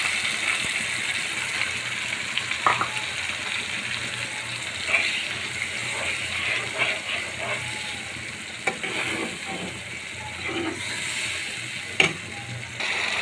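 Spice paste frying in a pan with browned onion and ginger, a constant close sizzle broken by scraping and clinking stirs of a utensil against the metal.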